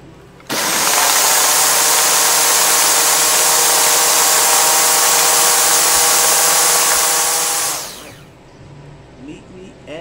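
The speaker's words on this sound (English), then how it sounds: "I'm gonna put them in the blender." A blender grinds leftover fire cider solids, one loud steady motor whine running about seven seconds, then cutting off and winding down, with no one talking.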